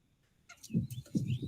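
Birds calling outdoors: a few short, close clucking chirps follow a near-silent start, in quick irregular bursts.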